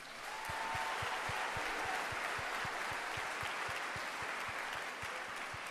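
An audience at The Fashion Show 2025 fundraiser applauds its donors, a broad, even roar of clapping with a steady rhythmic thump beneath it, continuing unbroken throughout.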